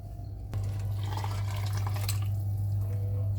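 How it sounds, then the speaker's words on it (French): Hot water poured into a pot of simmering herbs while cooking, a steady close liquid rush with faint dripping that starts suddenly and runs unbroken, loud and alone. "vous mettez votre eau chaude. L'équivalent au moins de 2 litres"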